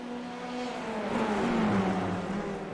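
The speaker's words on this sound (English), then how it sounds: "They sound very good, don't they, these cars?" Formula 3 race cars in a sim racing game at Oulton Park, engines droning and revving steadily with shifting pitch as the cars run close together, loud and continuous throughout.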